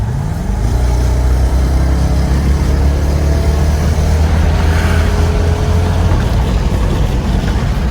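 A 1996 Chevrolet Impala SS engine roars loudly as it revs and accelerates, its rising pitch sweeping upward while the deep exhaust rumble stays constant.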